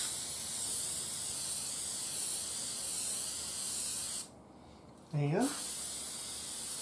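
A heavy coat of 45 stickum adhesive is sprayed during the restoration of a Zenith Boomerang radio: a loud, steady hiss runs unbroken for about four seconds, then cuts off, and a voice follows briefly.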